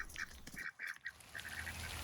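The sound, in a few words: ducks quacking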